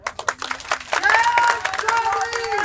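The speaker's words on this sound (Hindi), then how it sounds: "ताली आप बजा रहे हो" Audience at a political speech breaking into scattered clapping, starting with a few sharp claps and swelling into brief applause, with a speaking voice over it.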